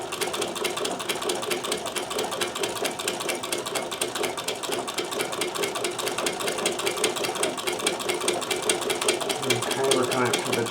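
A Necchi BU Nova sewing machine stitches a buttonhole on a shirt cuff, its rapid needle clatter running loud and even throughout.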